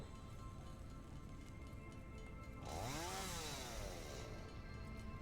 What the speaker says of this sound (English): That's the chainsaw.